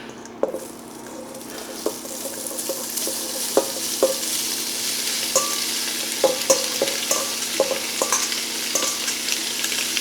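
Andouille sausage browning in a Dutch oven, a steady sizzle and fry with repeated sharp scrapes and knocks as the pieces are stirred, close and fairly loud with no talking.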